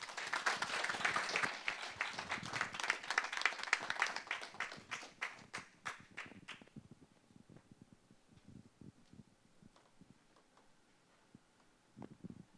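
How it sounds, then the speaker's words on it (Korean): An audience at an economic forum applauds as a speaker is brought to the stage, with dense clapping for about six seconds that thins to scattered single claps and then fades. "큰 박수 부탁드립니다."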